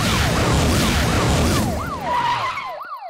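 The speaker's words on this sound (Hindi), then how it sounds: "पुलिस, पुलिस, ये पुलिस की गाड़ी यहाँ क्या कर रही है?" A police car siren wails in a repeating rising-and-falling sweep, loud and close over a dense mix of crowd noise and engine rumble, then carries on alone as the background thins out.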